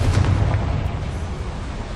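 A Confringo fire spell bursts in Hogwarts Legacy inside a mine: a heavy, loud boom with deep low rumble up front that decays into a sustained roar over two seconds, no talking.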